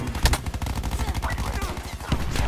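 Rapid gunfire from a Black Ops 4 multiplayer match, a steady loud burst of shots with a sharper crack near the start and another toward the end, mixed with game effects and no talking.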